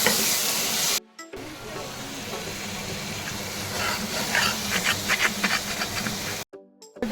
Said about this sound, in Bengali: আমার কষানো হয়ে গেছে, তেল হালকা হালকা বেরিয়ে গেছে।